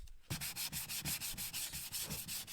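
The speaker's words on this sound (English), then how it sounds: "Same as before, blocking it all flat into shape, getting rid of any, you know, high spots, low spots." Block sanding a Rolls-Royce bumper with 180-grit paper makes a loud, close, rhythmic rasp, with quick back-and-forth strokes repeating steadily after a brief quiet start.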